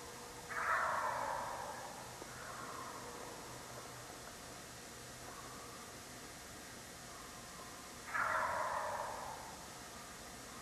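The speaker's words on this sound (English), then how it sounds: "Then a loud thunderous gobble, and I knew they were closer." Wild turkeys in spring woods give two loud gobbles, one near the start and another near the end, with fainter calls between over a steady hiss of background noise.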